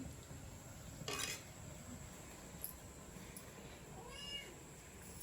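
A cat meows with drawn-out, rising-and-falling calls over a quiet kitchen background during modak making, plus a brief clatter earlier on.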